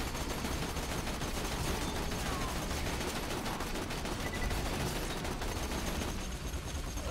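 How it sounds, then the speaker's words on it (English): A ricochet gun fires rapidly in the shooter video game Borderlands 2, a dense, continuous clatter of gunfire and impacts that stays loud and close without a break from start to finish. "This is a ricochet gun."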